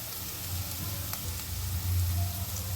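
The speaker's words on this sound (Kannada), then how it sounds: "ಆ ಈರುಳ್ಳಿ ಗೋಲ್ಡನ್ ಕಲರ್ ಬರೋವರೆಗೂ ಹುರ್ಕೋಬೇಕು" Sliced onions frying in a pan with a little turmeric powder, cooking until golden: a steady, close sizzling hiss that runs throughout with slight swells, and no voices.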